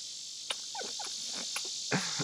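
Loud insects such as crickets buzz and trill steadily outdoors in daylight, a dense continuous drone with a few faint bird chirps over it.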